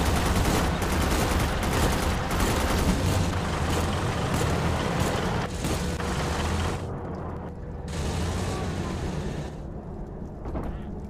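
A vehicle's gun fires bursts in the Gates of Hell World War II game, against Soviet infantry in a ditch. Dense gunfire and mechanical clatter run steadily for several seconds, then thin out into a few separate bursts with gaps between them.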